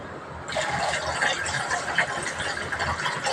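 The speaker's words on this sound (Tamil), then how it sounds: "2 சொம்பு தண்ணி ஆட் பண்ணிக்கணும்" Water pours steadily into a cooking pan while Maggi noodles are being made, starting with a sudden loud gush and then a continuous close splashing fill with no talking.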